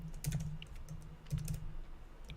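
Keys clatter on a new computer keyboard, quiet close-up typing in short uneven clusters of taps with brief gaps, in an otherwise still room.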